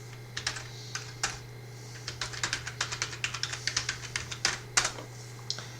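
Fingers type on a computer keyboard with quick, irregular bursts of light, close clicks and short pauses, quiet over a low steady hum, with no talk.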